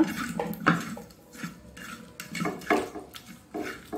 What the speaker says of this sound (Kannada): ಉಪ್ಪು ಮತ್ತು ಹಳದಿಯನ್ನು ಹಾಕಿ ನಾವು ಸ್ವಲ್ಪ ಮಿಕ್ಸ್ ಮಾಡಿಕೊಳ್ಳೋಣ.